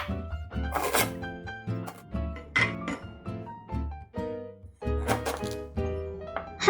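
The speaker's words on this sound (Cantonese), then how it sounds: "將南薑切成細塊" A knife cuts galangal into small pieces on a board with a series of close, irregular thunks and chops. Music plays throughout underneath the cutting.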